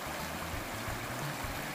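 A creek along a bikepacking route rushes steadily close by, a continuous broad wash of flowing water with low gurgling underneath, no voices.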